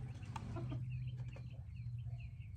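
Chickens cluck softly in short, scattered calls over a steady low hum, fairly faint and a little distant, on a rainy day.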